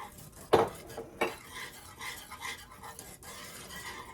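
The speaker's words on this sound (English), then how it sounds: "we're going to add 3/4 cup of our grits and just whisk them in" Grits being whisked into liquid in a pot for shrimp and grits, a couple of sharp clinks of the whisk against the pot followed by soft, rhythmic swishing and scraping, close and fairly quiet, with no talking.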